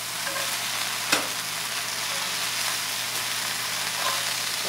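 Onions and peppers frying in avocado oil, a steady broadband sizzle with one sharp clack near the start, close and continuous with no talk.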